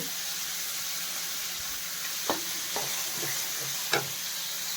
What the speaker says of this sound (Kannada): ಈಗ ನಾನು ಕರ್ಬೇವಿನ ಸೊಪ್ಪು ಸಹ ಹಾಕ್ಕೋತಾ ಇದ್ದೀನಿ